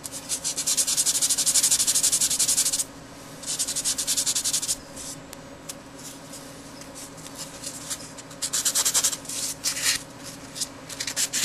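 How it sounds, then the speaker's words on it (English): Primer on a hobby model gets sanded by hand, a close, steady hissing scrape in long strokes with a pause, then shorter bursts of rubbing near the end. "the stuff sands really easily, so this is one of the reasons why I like it"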